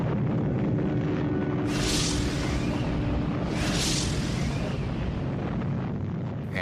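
A nuclear weapon test explosion heard as a continuous loud, deep rumbling roar with two broad surging blasts of noise partway through, no voices.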